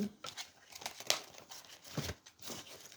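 An Amethyst Love oracle card being drawn from its deck, heard as soft, close paper crinkles and slides with a couple of sharper flicks, quiet and broken up.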